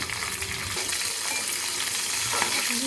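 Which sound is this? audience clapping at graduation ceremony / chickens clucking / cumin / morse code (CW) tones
cumin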